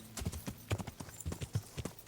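Horse hooves clip-clop in the video game Kingdom Come: Deliverance, a quick, uneven run of close, distinct hoofbeats on hard ground, with no talking.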